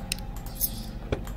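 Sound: keys jangling in a video game

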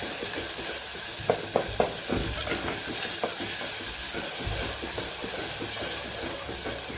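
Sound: stirring garlic chutney into chana potato curry in pan

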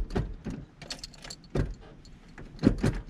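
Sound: car being started, keys jangling

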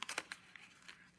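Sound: folding paper box flap down

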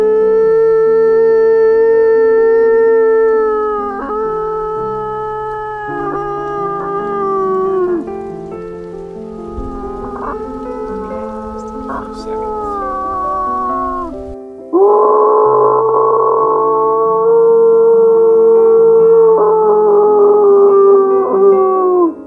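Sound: person imitating a wolf howl

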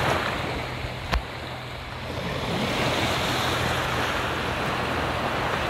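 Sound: sea waves on the shore in the Mexican Caribbean

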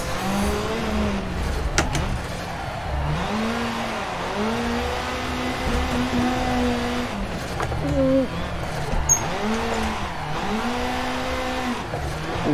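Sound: drift car engine revving under power on the Nordschleife

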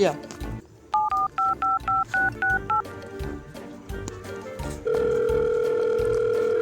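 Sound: telephone dialing and ringing tone

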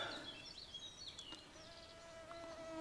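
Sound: mosquitoes buzzing

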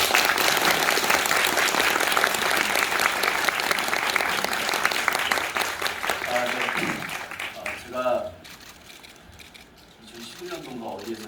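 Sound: theatre audience applause for the cast

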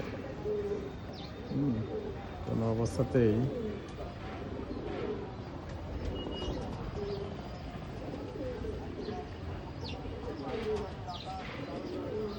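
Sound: Naktana pigeon cooing

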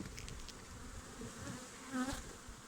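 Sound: honeybees buzzing during honey harvest

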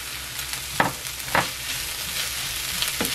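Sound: blanched bitter melon stir-frying with oyster sauce in pan

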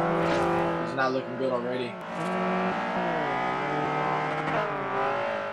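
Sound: Honda CR-X race car engine in Forza Horizon video game

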